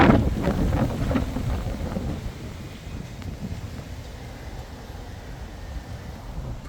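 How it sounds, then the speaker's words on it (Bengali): Strong gusts on a windy April day in the UK roar and buffet the microphone outdoors, loudest at the start and then easing to a steady, rumbling blow. "দেখেন অবস্থা বাতাসের।"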